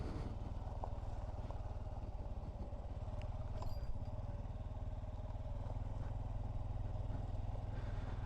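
Honda Trail 125 motorcycle riding over loose gravel, a steady close engine drone with crunching, clattering stones running continuously at even loudness, no talk.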